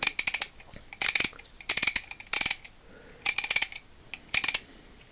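A Snap-on S-71 half-inch drive ratchet clicks in six quick bursts of rapid ratcheting, with near silence between them. Each burst is loud and close, with no talking.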